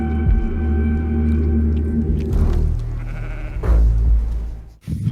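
Sheep bleating in a grim movie set in Patagonia, The Settlers, with a loud sustained bleat over a low rumbling ambience, followed by further shifting cries and a sudden bump near the end, no speech.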